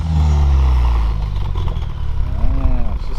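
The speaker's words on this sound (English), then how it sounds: "see what it sounds like now with the new exhaust" A Hemi car engine with a new exhaust idles and revs with a deep, throaty exhaust rumble, wind buffeting the microphone throughout.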